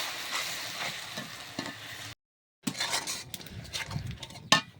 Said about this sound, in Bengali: স্বাদ মতো লবণ দিয়ে মশলাটা একটু কষে নেব।